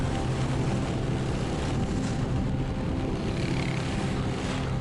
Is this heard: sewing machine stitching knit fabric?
no